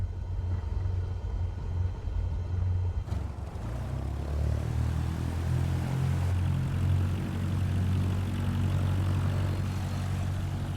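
Cessna Skyhawk single-engine propeller plane taxiing toward the runway in Microsoft Flight Simulator 2024, a steady droning engine rumble that swells slightly after a few seconds and holds constant throughout, with no talking.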